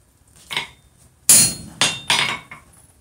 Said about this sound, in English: just drive this rivet down. And drive it home.